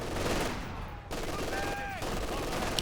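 Machine-gun fire from an MG in a Company of Heroes 2 battle, a continuous rattling burst with a short gap, then steady firing again alongside battle ambience.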